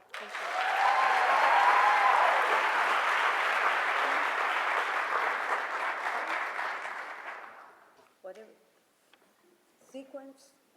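Loud, sustained audience applause greets two speakers at a PEN literary event, swelling for about eight seconds before fading out, followed by a few brief spoken words.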